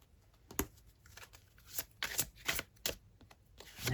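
Oracle cards shuffled during a tarot reading, a series of crisp riffling bursts and soft slaps spaced irregularly, close and clear with no talking.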